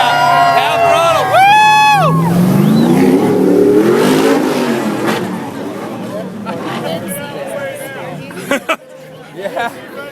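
A Stadium Super Truck revs at half throttle in a stadium, a loud engine roar swelling then fading, with crowd chatter and cheering around it and a voice over.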